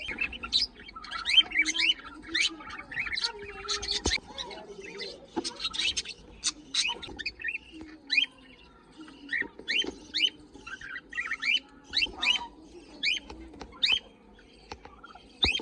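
Small birds, likely pigeons, chirp and tweet repeatedly in quick bursts while eating millet, fairly close, over a low murmur of cooing and faint background voices.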